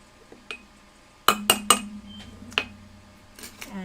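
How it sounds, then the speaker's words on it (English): A spoon clinks against a cup while stirring keto coffee, a few sharp chimes in a quick cluster followed by a couple of lighter taps, close and clear with no talk. "And give it a bit of a stir."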